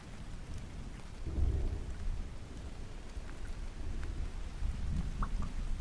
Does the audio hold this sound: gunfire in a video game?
no